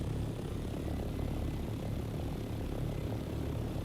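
The Scout aircraft in the video game Dune Awakening flies with a continuous, even propeller-like engine drone, steady and close throughout with no speech.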